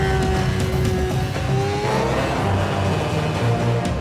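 Formula 1 car engine on an onboard simulator lap of the Bahrain Sakhir circuit, a loud continuous high-pitched whine with rising and falling revs through gear changes, plus brief tire-squeal-like tones, with no talking.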